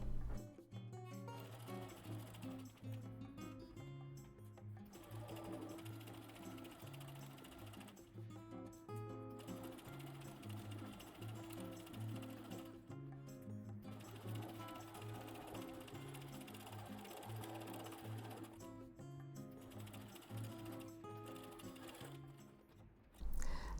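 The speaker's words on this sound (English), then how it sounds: "Now it's time to sew the pocket backs together. Just follow the curve all the way around." A sewing machine runs steadily, stitching curved pocket backs together for elastic waist shorts, its motor humming in long continuous bursts with brief pauses between seams, close and alone.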